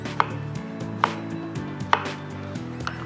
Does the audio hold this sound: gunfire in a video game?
no